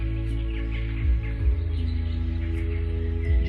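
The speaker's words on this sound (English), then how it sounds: "There's the cuckoo bird." Soft cuckoo calls come in a few brief chirps, set back behind a sustained low droning tone with occasional deeper thumps.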